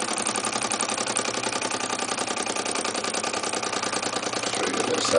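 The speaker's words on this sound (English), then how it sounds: "the little Stirling engine lives." A Grizzly H8102 Stirling engine runs steadily at close range, giving a fast, even mechanical chatter with a regular rhythmic pulse that holds constant and swells slightly at the end.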